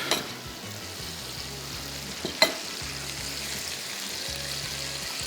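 Fish tail end, Balochi-style fish masala, frying in a hot pan: a steady close sizzle and crackle running throughout, with a soft low musical tone beneath and a brief clatter midway.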